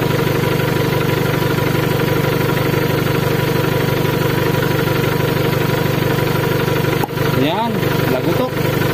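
A car engine idles steadily during a brake repair, a constant mid-pitched drone with faint knocking vibration, close and loud, before a brief clatter of movement near the end.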